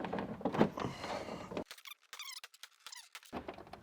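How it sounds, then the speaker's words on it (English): Plastic trim tool prying open an interior trim panel on a Mercedes C190 GT, giving a few sharp plastic squeaks and creaks close by, with a rattly handling noise before them and quiet gaps in between. "I'm gonna use that plastic trim tool, go around the sides, and just pry it open"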